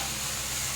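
Fried potatoes dropped into a hot pan of spice mixture for a Bengali stingray curry give a loud, dense, steady sizzle that fills the whole short moment, close up and without speech.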